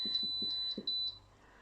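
A kitchen timer being set for rising bread gives a short run of high electronic beeps, several quick chirps in a row, then falls quiet, faint in a home kitchen.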